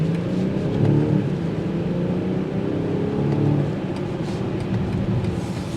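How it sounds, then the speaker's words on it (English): A deep, muffled exhaust note from a 2023 BMW X5 xDrive40i drones from inside the cabin, steady and loud, rising slightly as the engine revs. "The exhaust note filters in"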